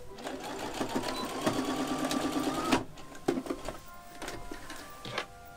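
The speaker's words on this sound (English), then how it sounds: "I'm just gonna top stitch it on the shirt" A sewing machine top-stitches a fabric strap onto a shirt. It runs in a fast, continuous mechanical chatter for under three seconds, then gives a few brief stitching bursts and clicks nearby.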